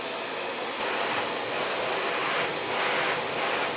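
A $99 shop vac runs in blower mode, pushing a strong, steady roar of rushing air that fills the room for the whole stretch, loud and broadband with slight swells.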